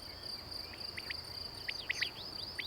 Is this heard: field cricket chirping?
yes